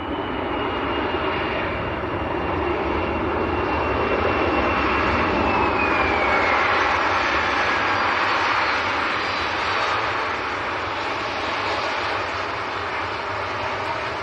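A fixed-wing airplane lands at Leeds Bradford Airport, its engines a broad, steady roar with a faint descending whine, heard from a distance at constant strength throughout.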